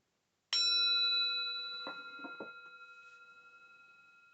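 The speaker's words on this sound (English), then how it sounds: "I'm going to ring the bell. I'm going to ask you to listen carefully." A meditation bell is struck once and its clear metallic tone rings on, slowly fading, with a few faint soft knocks as it decays in a quiet room.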